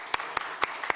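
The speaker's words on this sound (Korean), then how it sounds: "우리 한번 다시 박수 드릴까요?" Applause for the praise team at a church service comes as four distinct, evenly spaced claps in about a second, sharp and fairly close, like one or a few people clapping rather than a full crowd.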